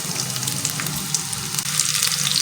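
Medium onion added to hot oil with cumin seeds, giving a steady, close hiss of frying that holds fairly loud and even throughout with no voices.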